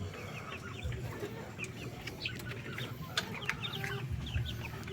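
A one-month-old Shamo chick, a dumpo strain cross, gives soft, brief clucks and peeps at close range, scattered irregularly over a low background rumble with no talk.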